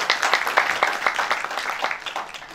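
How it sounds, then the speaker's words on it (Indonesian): A church congregation at a worship service claps hands in a moderately quick rhythm, a short burst of sharp claps at medium distance. "Tepuk tangan dong buat Tuhan Yesus ya."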